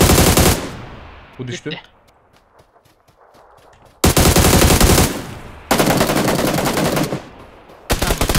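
Bursts of automatic gunfire in the PUBG Lite battle royale game: a loud sustained volley, a lull with scattered shots and speech, then two more long heavy bursts near the end.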